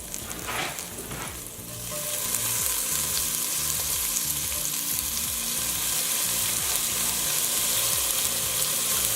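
Parsley hits hot oil in a pot with a sudden, loud frying hiss that swells after a brief stir, then holds as a dense, close, steady sizzle, no voices.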